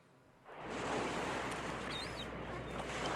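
Ocean waves used as foley in a song, a broad hissing surf swell that rises after half a second and holds steady, with faint seagull-like chirps above it.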